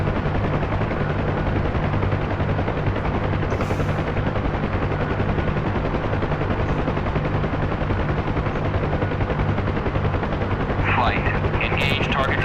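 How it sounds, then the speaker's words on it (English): Ground gunfire crackles during a Huey helicopter's landing approach in the DCS combat flight game, dense and continuous over the steady drone of rotor and engine, with a few sharper bursts toward the end. "So we're going to get some ground fire when I come into land."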